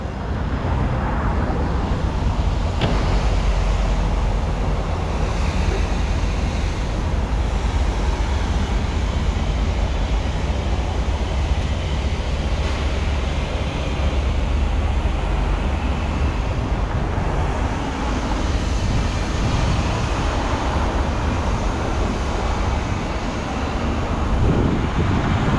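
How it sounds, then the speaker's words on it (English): Train passing by outdoors, a steady loud rumble and roar that holds for the whole stretch with faint clanks, heard alone without talk. "And so the train's passing by"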